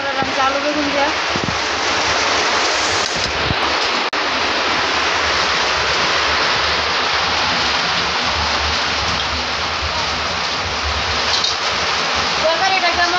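Heavy rain pours down in a dense, steady roar of hiss that stays loud and unbroken throughout.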